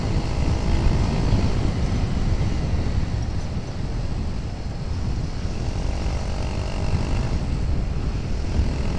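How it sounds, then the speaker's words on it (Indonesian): A motorcycle with a racing exhaust drones loudly and steadily up close, its low engine rumble continuous throughout with no pauses. "Gua ini menggunakan knalpot racing, men."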